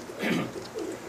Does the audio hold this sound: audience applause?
no